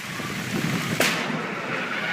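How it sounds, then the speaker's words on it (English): A hail cannon fires during an approaching thunderstorm, one sharp blast cutting through a steady roar of wind and outdoor noise, with no talking. "over here the hail cannon firing off"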